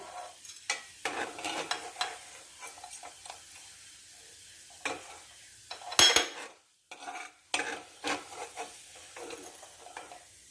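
Ginger pieces frying in hot oil and being scooped out, soft sizzling broken by irregular metal clinks and scrapes of a ladle against the pan, one sharp loud clatter midway, then brief quiet before more scraping.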